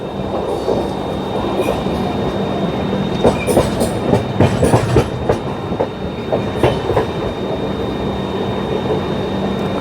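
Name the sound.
train running on rails, clickety-clack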